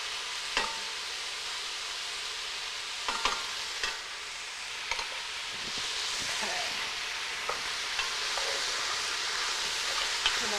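Sizzling food in a pan is stirred and scraped along the bottom, a continuous soft fry hiss broken by periodic scraping strokes and light clinks of a utensil against the pan.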